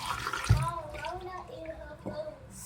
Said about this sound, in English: Now we're gonna put this vinegar back up in there.